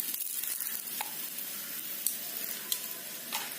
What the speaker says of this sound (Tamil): மேல ஒரு ஸ்பூன் எண்ணெய் ஊற்றிக்கலாம்.